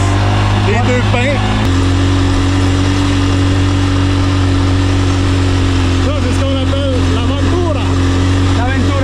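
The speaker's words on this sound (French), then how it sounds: "La moto est tombée sur mon pied." A motorcycle engine runs at a steady idle close by on a ride out, its low drone dropping slightly in pitch after a moment while voices are faintly heard over it.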